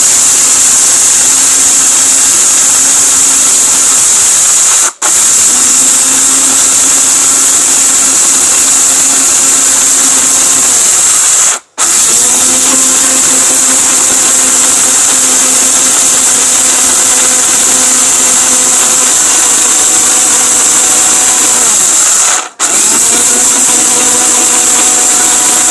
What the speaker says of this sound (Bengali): সুন্দরভাবে এই ব্লেন্ডারটা আপনাকে সবকিছু ব্লেন্ড করে দিবে